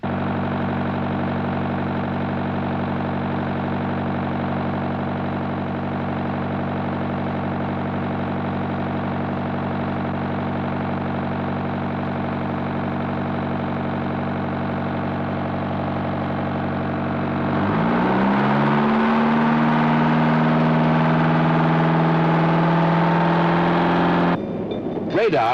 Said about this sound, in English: specially designed engines that must develop full power and operate efficiently on their sides at an angle of 45 degrees